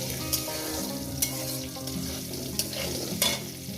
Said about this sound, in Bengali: আলুগুলোকে আমি সুন্দর করে চার পাঁচ মিনিট ধরে পাঁচ মিনিট ধরে ভেজে নেব